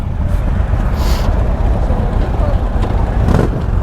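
A Stage 2 2022 Indian Chief Dark Horse motorcycle engine runs with a steady loud low rumble during a test ride, mixed with wind buffeting and someone talking over it.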